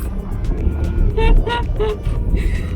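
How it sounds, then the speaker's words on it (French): Several short car horn toots in quick succession over rumbling traffic noise in Mauritius, fairly close, with a longer honk near the end. "maintenant il se fait klaxonner en plus"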